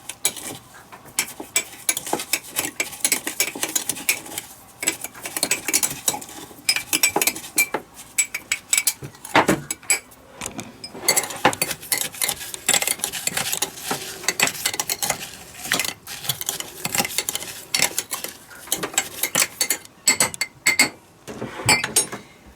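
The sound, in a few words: spoon clinking while squeezing in a glass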